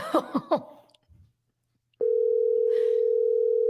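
A telephone call goes unanswered: after a few brief voice sounds and a pause, a loud, steady electronic phone tone starts abruptly and holds unbroken to the end.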